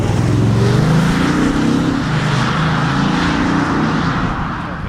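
A 2020 Audi S6 TDI Avant diesel engine pulls hard under acceleration, a loud, close, rising drone that dominates at first, then eases slightly as the revs settle.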